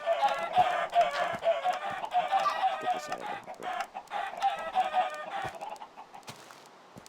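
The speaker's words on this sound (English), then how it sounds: "You can see the chicken is floating, so we better set up a collection system soon." Chickens cluck busily and repeatedly in a Minecraft automatic chicken farm, a dense overlapping stream of clucks and squawks at close range, with a brief spoken line partway through.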